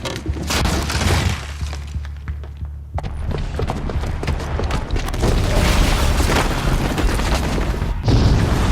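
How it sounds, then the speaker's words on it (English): A booby-trapped bomb in Horizon Zero Dawn goes off with a heavy boom followed by prolonged crashing, shattering and rumbling debris, loud and dense throughout. "the booby trap on the bomb downstairs is gonna get set off"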